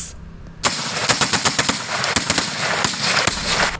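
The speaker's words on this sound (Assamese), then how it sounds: "বন্দুকৰ গুলীয়াগুলীৰ মাজত আতংকত জীয়াই আছে" Gunfire rattles in rapid, uneven bursts of close, loud shots for several seconds after a brief quiet start, at Silapathar in Dhemaji, Assam.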